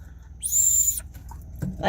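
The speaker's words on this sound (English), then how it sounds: "I'm going to show you the whistle right here. This is it. This is what it sounds like" Dog training whistle blown once, a single piercing high tone lasting about half a second, close and clear against a quiet background, followed by a faint thump.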